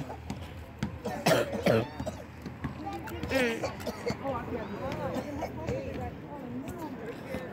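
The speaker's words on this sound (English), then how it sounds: "everybody's getting that nasty cough." A few harsh coughs burst out near the start amid background chatter and shuffling at a rally, with people talking around them.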